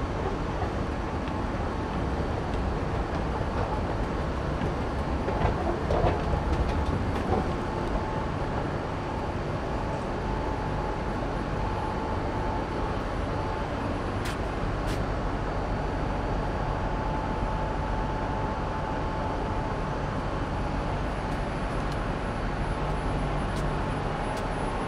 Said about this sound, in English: This is one long ass train.